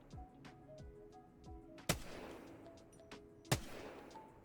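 R-301 rifle fire at the firing range in a video game, with two sharp, isolated shots about a second and a half apart against a quiet, faintly humming background.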